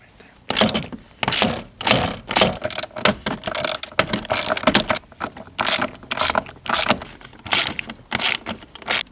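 A hand ratchet works loose the fasteners holding a vehicle's shifter assembly, giving loud, close, rapid clicking bursts in repeated strokes with short pauses between them.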